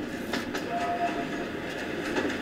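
A train in a Scream VI horror movie trailer rumbles along with a brief horn-like tone, a steady mid-level rolling noise under faint cinematic sound.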